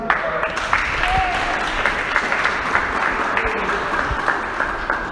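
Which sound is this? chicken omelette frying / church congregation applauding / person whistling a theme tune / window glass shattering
church congregation applauding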